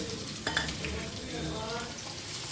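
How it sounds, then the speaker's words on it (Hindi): Mustard seeds and onion frying in oil in a pan, a steady close sizzle and crackle with a couple of brief stirring clinks. "तो हम उसी ऑयल में मैंने क्या किया, थोड़ी सी राई डाल दी है।"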